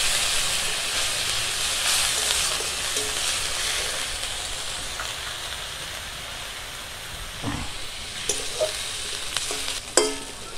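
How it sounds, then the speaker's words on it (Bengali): Onion paste frying in a pan as the base for a fish curry, a soft steady sizzle with scattered stirring scrapes and clinks toward the end. No speech. "পেঁয়াজ আমার ভাজা হয়ে গেছে"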